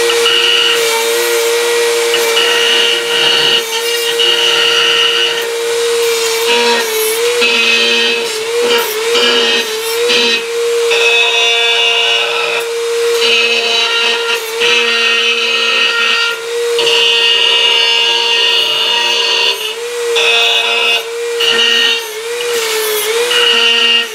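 A power tool scuffs up slate tile before laying it, a loud continuous whine with a steady pitch that shifts slightly as pressure changes, and no talking.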